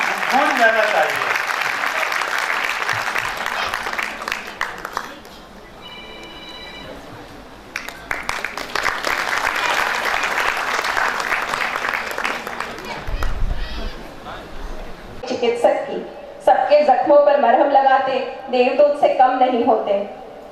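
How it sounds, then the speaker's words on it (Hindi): At a Narmada Bhawan Trust felicitation ceremony, the audience claps loudly in two long bursts separated by a brief lull, then the clapping gives way to a voice speaking over music. "एक बार जोरदार तालियों से अभिनंदन"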